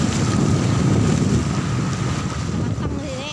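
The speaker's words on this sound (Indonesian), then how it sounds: "Angin tuh telapo kencang sudah." Strong, steady wind roars at the edge of a beach, buffeting the microphone continuously with a dense, rumbling gust noise and the faint wash of surf beneath it.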